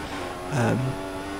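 Formula 1 car engine in F1 2014 on the Hungary circuit, a steady high-pitched engine drone with a brief rising rev in the middle, heard under someone talking.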